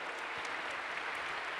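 A conference audience gives brief, faint applause, a soft continuous patter of many hands heard from a distance.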